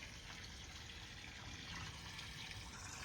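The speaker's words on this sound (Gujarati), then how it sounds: "ટીપડાની અંદર પાણી ભરવાનું ચાલુ છે મોટરથી" Water pumped by a motor into a plastic drum, a steady dense rush and splash without a break, fairly faint and close.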